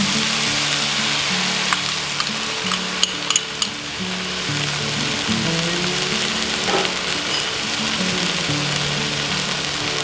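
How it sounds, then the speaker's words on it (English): Spices toast and sizzle in a hot pan with a steady, close frying hiss, broken by a few stirring clicks and scrapes. "toast the spices a little bit"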